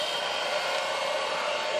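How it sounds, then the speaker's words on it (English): A heater blows steadily to speed up wet forming of a leather tomahawk sheath, giving a constant, fairly loud airy rush with no break and no voices. "And we're going to grab the heater."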